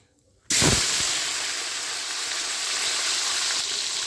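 Flat beans and potatoes hit hot oil already frying cumin and dried chillies, a sudden loud hiss that settles into a steady, close sizzle with no talking.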